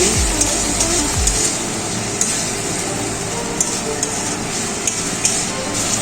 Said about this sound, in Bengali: মশলা কষানোর জন্য দিয়ে দিচ্ছি একটু জল তারপর নেড়ে ছেড়ে নিচ্ছি